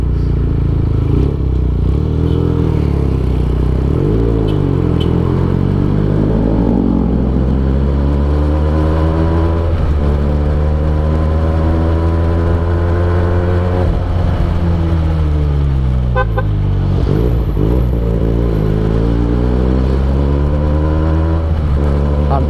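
A Benelli TNT 249 S motorcycle engine drones loudly and continuously on a test ride, its pitch rising and falling through repeated revs and gear changes, with wind rush throughout.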